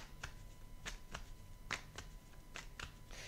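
Oracle cards being shuffled by hand, with a handful of crisp riffling snaps and flutters spaced about half a second apart and one louder burst as cards spring from the deck, close and quiet with no talking.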